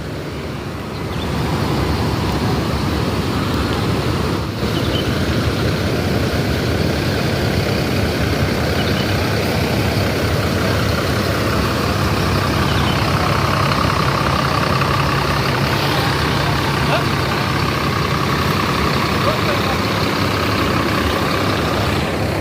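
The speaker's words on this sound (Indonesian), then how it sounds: "Sang Junior ini memakai sasis Mercedes-Benz OH1526, karoseri dari Adi Putro." A Mercedes-Benz OH1526 bus with Adi Putro bodywork idles at Kampung Rambutan terminal, its diesel engine a loud, steady, unbroken rumble that runs for the whole stretch with no voices over it.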